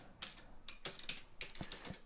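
Quiet key presses on a computer keyboard, a short irregular burst of light clicks typed at close range with no voices.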